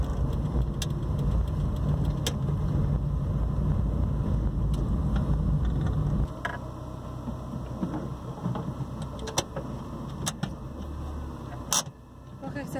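Car slowing and pulling over to a stop on a road near a shopping mall, steady engine and road rumble that drops off partway through as the vehicle comes to rest, with faint clicks and a voice speaking.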